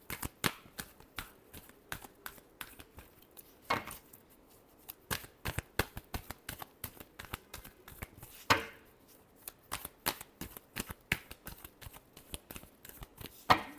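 Tarot cards are shuffled close by in a long run of quick, crisp slaps and riffles, irregular bursts of clicks with brief pauses between them and no talking.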